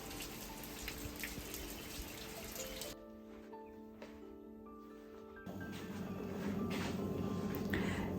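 Steady rain falling outdoors on a rainy day, a dense continuous patter with drips on surfaces, briefly thinning then returning heavier, with no talk.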